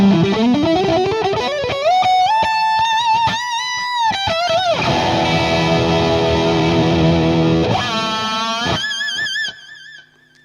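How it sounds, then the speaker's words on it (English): Electric guitar played through a Boss SD-1 Super Overdrive pedal with level and drive fully up and tone at noon, loud sustained distorted notes and chords that ring out and cut off abruptly at the end. "here's the signal with the Boss SD-1, everything on full"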